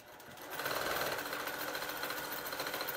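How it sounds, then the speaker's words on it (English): A sewing machine stitches a double fold hem, its motor starting up after a brief pause and then running steadily with a fast, even needle rhythm close by, no voices over it. "I would just sew it from one side"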